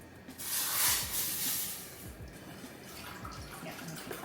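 Water poured into chickpea flour for a vegan mayo makes a hissing, splashing pour that swells early and then settles into a softer, uneven trickle, close and fairly quiet.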